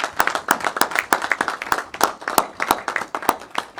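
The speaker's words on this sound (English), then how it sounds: "give the Principal another warm round of applause" Applause from a council audience for the Principal after an excellent report: moderately loud, fairly sparse clapping with distinct individual hand claps, steady throughout, with no talking.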